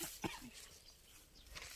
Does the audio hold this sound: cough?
yes